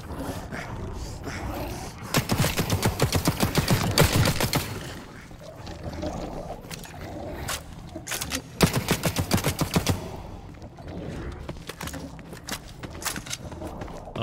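Gunfire in the shooter game The Cycle: Frontier: rapid automatic bursts in several clusters, loud and sharp, with scattered single shots between them.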